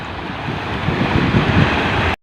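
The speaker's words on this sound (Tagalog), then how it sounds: "talagang palaki na yung tubig ang laki na ng mga alon niya" Large ocean waves churn and roll in a steady, loud wash of surf and wind heard from a fishing boat at sea, with no voices over the continuous broadband roar.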